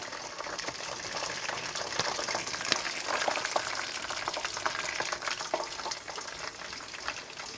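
Chicken pieces frying in hot oil for home-style Thai fried chicken, a steady broadband crackle and bubbling sizzle throughout with scattered sharper pops, close and fairly quiet, no voices.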